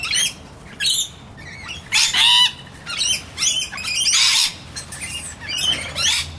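Rainbow lorikeets at a bird sanctuary give a run of shrill, harsh squawks and chattering screeches in repeated bursts, loud and close, with some wingbeat flutter between calls.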